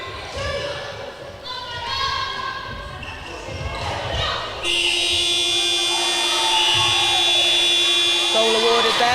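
A long, loud electronic buzzer sounds at the end of play in an international netball match between Northern Ireland and UAE, droning steadily for several seconds after crowd noise and a commentator's voice.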